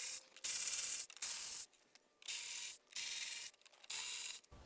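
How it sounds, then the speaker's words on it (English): A ratchet on 12mm bolts holding the black plastic battery platform of a 300 Series Toyota LandCruiser, heard as repeated close bursts of rapid clicking and rasping separated by short pauses. "we want to remove this black plastic platform that the battery sat on by removing these 12mm bolts"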